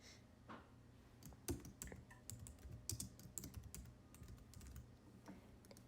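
Quiet keystrokes and mouse clicks on a computer keyboard while editing a website theme, irregular bursts of taps and a few sharper clicks spread across the clip, close and fairly soft with no voice.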